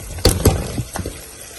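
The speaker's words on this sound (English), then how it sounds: "I'm going to add water and cover the pot" Water splashes and gurgles into a cooking pot holding beef and yam, in a few irregular bursts that fade to a softer trickle, close by with no talking.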